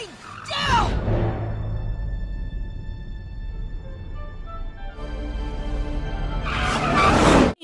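A yellow race car's tires squeal in two loud skids at the start and end, with a raspy engine drone between them, in a dinosaur video game; a voice chatters faintly beneath.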